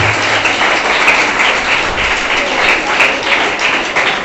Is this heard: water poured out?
no